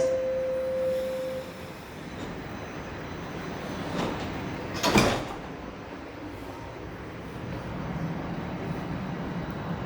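A Toronto subway train at the platform: a short tonal door chime, a sharp clunk of the doors shutting midway, then a steady rail rumble as the train pulls away, with no voices.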